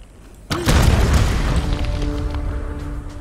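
A bomb goes off in a Tomb Raider game: after a quiet moment, a sudden heavy boom hits hard and rolls into a sustained, loud rumble that tapers slowly.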